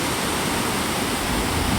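A waterfall at Amnicon Falls State Park, heard as a constant broadband rushing roar of falling water, steady and close with no voices over it.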